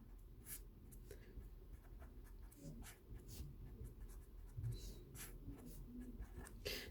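Pen or marker scratching out a maths bracket expansion during a year 10 corrections lesson, a steady run of soft scribbling strokes that continues throughout at low level.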